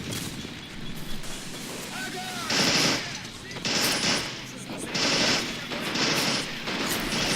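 Machine gun fire in the World War II strategy game Men of War Assault Squad 2 rattles in repeated bursts over a rumbling battlefield backdrop, with distant explosions and a player's voice talking through it.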